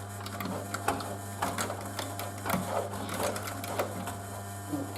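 A sewing machine stitches through canvas and leather for a bag, its needle running in a steady, fast mechanical rattle with small irregular bumps, close and moderately quiet, with no speech over it.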